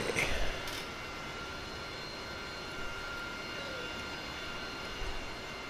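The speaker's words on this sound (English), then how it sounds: "Also, I'm taxiing." A fixed-wing aircraft taxis on an airfield in a flight simulator game: a steady, droning engine hum with a constant whine runs throughout, without pauses or change in level.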